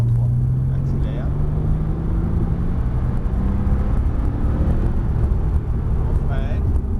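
A Porsche on the Montlhéry circuit pulls hard in third gear, its engine drone rising steadily and loud throughout, with people talking over it.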